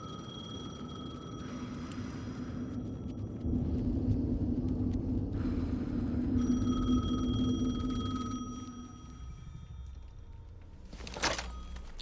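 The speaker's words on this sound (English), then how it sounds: "The phone again." A telephone ringing in the video game Alan Wake 2, repeated metallic bell rings in spaced bursts over a low continuous rumble, moderately loud and close.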